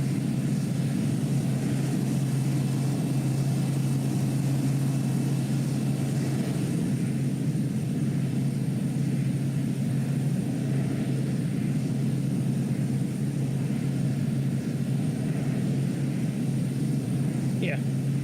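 A Piper M500 propeller plane in the Microsoft Flight Simulator 2020 game drones steadily in flight, a constant low engine hum holding level throughout with no talking over it.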